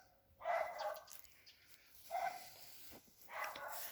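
Dogs bark in three separate bursts, a couple of yips each, at moderate distance outdoors at a country garden plot in late May, with quiet pauses in between.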